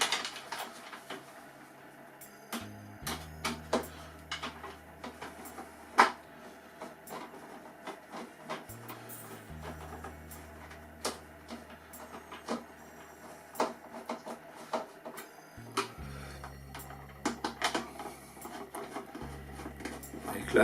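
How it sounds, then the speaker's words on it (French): A large Phillips screwdriver tightens two screws on a Kavan Norden model aircraft during assembly. Quiet clicks and taps are scattered through the clip over a low intermittent hum, with no talk. "c'est un gros tournevis cruciforme qui va être utilisé"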